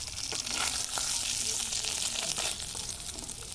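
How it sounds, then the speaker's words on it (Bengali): Snakehead fish sizzles steadily as it fries in oil in a pan in a village kitchen, a continuous close crackle with scattered pops and no talking. "মাছটা ভাজা হচ্ছে"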